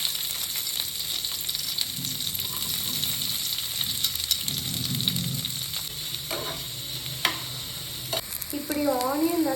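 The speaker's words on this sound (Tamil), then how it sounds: "ஆனியன் ஃப்ரை பண்ணி எடுக்க" Onions frying and being stirred in a pan for a paneer butter masala, a steady loud sizzle with scraping stir strokes throughout, no talking.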